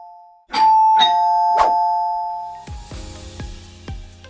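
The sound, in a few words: wireless calling bell on folding handrail ringing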